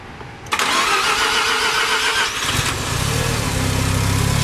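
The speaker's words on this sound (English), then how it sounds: "we're gonna fire up the car." A Mazda RX-7 FD3S with a 13B rotary engine cranks briefly and fires, jumping into a loud, raspy roar that then drops to a fast, pulsing idle, recorded up close with no talking.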